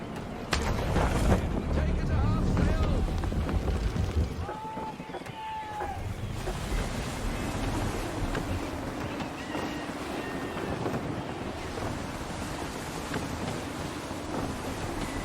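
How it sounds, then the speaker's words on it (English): Gusty wind sweeping over open sea while sailing in Assassin's Creed III, a steady broadband rush of air and water with heavier buffeting in the opening seconds, then a softer but continuous roar; a voice speaks briefly in the middle. "Wind looks to be shifting. Stay alert, Connor. Gusty winds can be difficult to manage."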